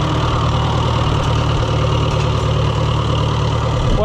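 An old Case tractor engine idles steadily close by, a loud, even low rumble with a regular firing pulse and no talk over it.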